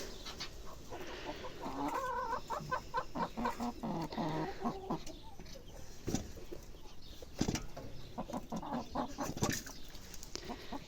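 Chickens cluck and chatter close by in a busy, uneven stream of short calls, with occasional sharper squawks.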